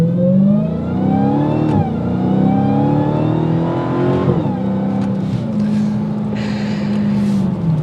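A Dodge Challenger SRT Hellcat revs and accelerates hard, its loud, close engine note rising in pitch through several gear changes before settling into a steady drone.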